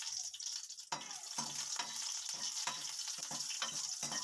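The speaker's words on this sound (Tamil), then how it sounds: "கொஞ்சம் வந்து எண்ணெய் தெறிக்கும்" Dried red chillies fry whole in hot oil, giving a steady bright sizzle with quick pops and crackles of spattering oil throughout, close and fairly loud, with no voices.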